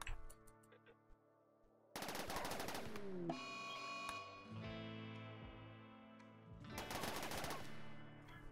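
A stolen rifle fires at a warg in the modded game Rimworld, with two loud, dense bursts of rapid shots separated by ringing, tonal game effects, and the second burst comes near the end.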